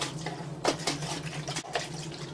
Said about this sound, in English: you're just going to keep shaking until it's fully dissolved